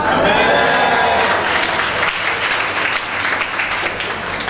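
A church congregation claps loudly and continuously close by, a dense wash of applause with some voices mixed in, easing slightly toward the end without stopping.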